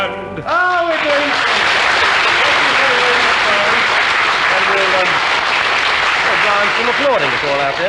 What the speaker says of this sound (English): still applauding us all out there